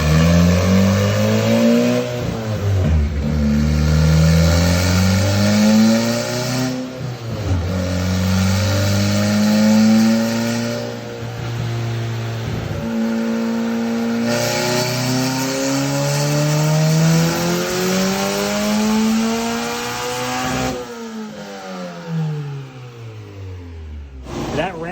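A Honda K-series engine swapped into a Porsche 911 revs repeatedly on a dyno, loud and close, climbing and falling in long sweeping pulls with VTEC crossover, running continuously without speech.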